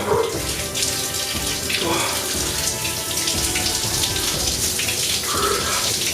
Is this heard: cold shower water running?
yes